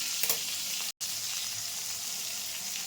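Soft tomato is mashed while frying in hot oil, giving a loud steady sizzle with brief stirring scrapes and a momentary dropout near the start.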